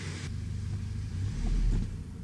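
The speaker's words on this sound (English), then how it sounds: "Let's take it out for a test drive." A 1997 Toyota Tacoma pickup, with a previously fixed fuel injector misfire, rumbles on a test drive, its engine droning close and steady and swelling slightly as it accelerates.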